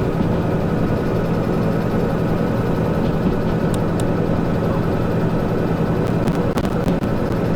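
Diesel locomotive engine in the train simulator Derail Valley idling steadily at about 1200 RPM, a continuous low droning rumble with a few faint clicks near the end, no talking.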